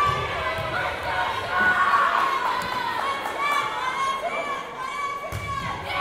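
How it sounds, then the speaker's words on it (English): Crowd at a high school volleyball match between the Highland Hornets and Revere Minutemen, a loud sustained roar of cheering and screaming in a gym, with scattered thumps and talk mixed in. "Crowd screaming it."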